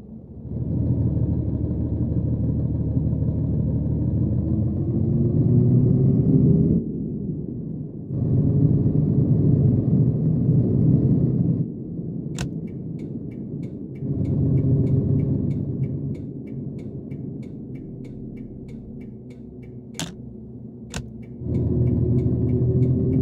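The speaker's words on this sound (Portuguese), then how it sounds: "E agora vamos acelerar." A Mercedes O400RSD Marcopolo GV1150 bus engine in a driving video game accelerates in several rising drones separated by brief gear-change pauses, with a few sharp clicks later on.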